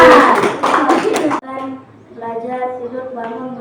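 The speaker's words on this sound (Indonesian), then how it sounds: "Oke, tepuk tangan." Schoolchildren at an elementary school clap together in a loud, dense burst for over a second before it cuts off and a voice begins speaking.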